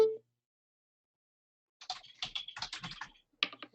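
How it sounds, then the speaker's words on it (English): Computer keyboard typing, a brief quiet tap at the start, then after a long pause a close burst of rapid, uneven keystrokes for about two seconds, with no talk. "are you typing that?"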